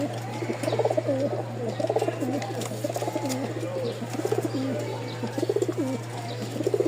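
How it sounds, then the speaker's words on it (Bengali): Male pigeon cooing in a loft of breeding and flying pigeons, repeated rolling coos in a steady rhythm close by over a constant low electrical hum, with no talk. "এই দেখেন নরের ডাক শুরু হয়ে গেছে"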